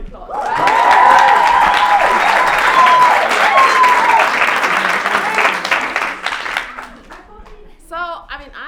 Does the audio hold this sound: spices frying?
no